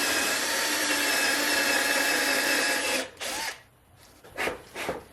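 A power drill whines steadily for about three seconds, driving a self-tapping pocket hole screw into wood, then stops and leaves short clicks and handling noises.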